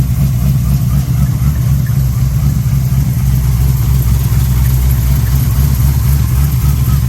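A freshly started car engine, long unused, idling loud and close with a steady, deep, rumbling drone and no breaks throughout.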